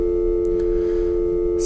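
A cruise ship stateroom telephone sounds a steady electronic call tone, a loud continuous hum pitched close to the ear, with a couple of faint clicks over it.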